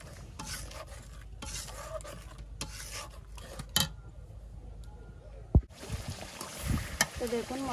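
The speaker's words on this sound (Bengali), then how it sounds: "মশলাটা আরো ভালোভাবে কষিয়ে নিচ্ছি দুধ দিয়ে" Biryani masala being stirred and fried with milk in a pan, a steady scraping, rasping stir with a soft sizzle underneath, nearby and moderately loud with brief pauses.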